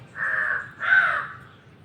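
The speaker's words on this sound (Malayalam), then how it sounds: "കാക്കച്ചി വന്നേ" A crow caws twice, two loud, harsh calls close by with a brief gap between them.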